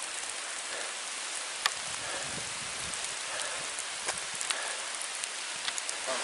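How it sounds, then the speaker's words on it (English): Hard rain falls steadily on a forest trail along the Black Forest Trail near Slate Run, Pennsylvania, a dense even hiss with occasional louder drops close by. "But it's raining pretty hard"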